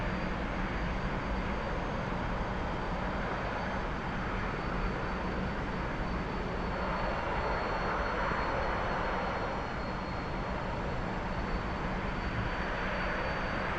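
Continuous broadband jet roar from a T-45 trainer in flight in the DCS flight simulator, a steady loud cockpit drone with no breaks and no talking.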